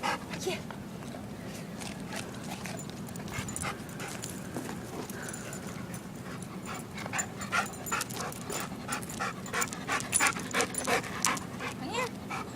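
Guide dogs panting and scuffling in play, with paws pattering and clicking on a hard floor in steady bursts that grow busier toward the end, close by under a low background rumble.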